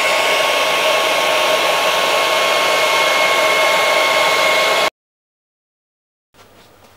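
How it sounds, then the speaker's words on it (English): Handheld hair dryer blowing over a treated masonry surface, a steady loud whooshing whine running for about five seconds before cutting off abruptly to silence. "I'm going to use a hairdryer to dry the surface and really show the salts."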